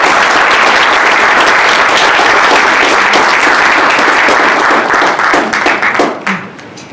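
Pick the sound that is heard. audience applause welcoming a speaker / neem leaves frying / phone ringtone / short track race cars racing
audience applause welcoming a speaker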